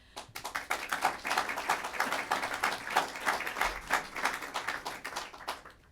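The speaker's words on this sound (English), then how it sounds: "That applause is really for the president." An audience applauds at a government event, steady crowd clapping at moderate distance lasting several seconds.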